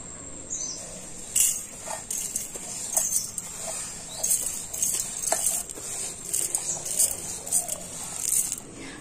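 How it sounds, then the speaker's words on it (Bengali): Cooled raw rice is poured into a mixer grinder jar, making a continuous grainy rustle and patter with small clinks. A steady high-pitched chirping, like birds or insects, sounds in the background. "আমি চালটা মিক্সি জারের মধ্যে ভরে নেব।"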